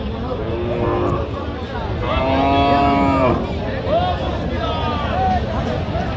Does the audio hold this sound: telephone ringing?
no